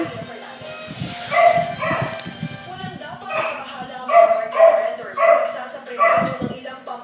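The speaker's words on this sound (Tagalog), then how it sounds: "Sino yung tumatahol?" A dog barks and yips repeatedly in short bursts, fairly close, mixed with whimpering and people talking over it.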